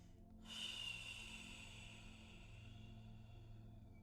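A single sharp breath drawn in through the nose during a guided emotional release exercise, quiet and close, trailing into soft airy exhalation with no talk.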